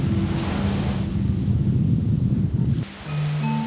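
Ocean waves wash steadily onto Haeundae beach in Busan, a broad continuous surf roar mixed with wind, shifting slightly near the end.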